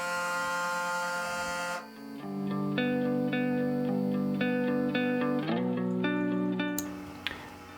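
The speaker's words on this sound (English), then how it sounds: "the solution at the bottom is spraying up, and then it's turning on the shaver to kind of wash it off" A Braun Series 9 shaver runs inside its cleaning station while cleaning solution sprays up around it, giving a steady close buzzing hum with tonal harmonics that shifts pitch partway through and continues without speech.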